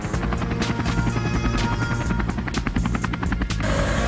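A police helicopter's rotor chops steadily in fast, even thumps under a constant engine whine, close and sustained without any voices.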